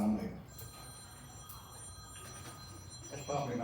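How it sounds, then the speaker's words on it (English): A telephone rings faintly in a room during a talk about 1960s Rockwall, its thin, steady tone sitting under low room noise and a murmuring voice. "That's probably my phone."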